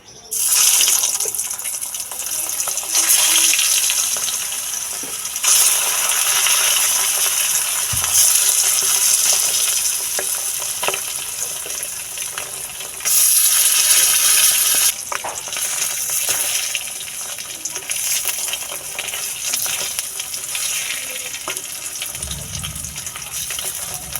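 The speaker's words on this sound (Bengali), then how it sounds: "এবার ডিমগুলো দিয়ে ভেজে নেব।" Eggs fry in hot oil seasoned with salt, turmeric and chili powder, giving a loud, steady sizzle with bright spattering bursts and occasional clinks of a utensil against the pan.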